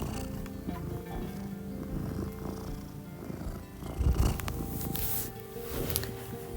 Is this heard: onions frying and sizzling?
no